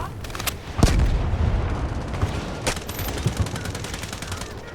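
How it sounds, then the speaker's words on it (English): Loud, close automatic gunfire from a Delta Force match rattles in dense bursts with a couple of sharper cracks, under a busy game soundscape. "I'm having trouble shooting while also trying to adjust my aim and all of that"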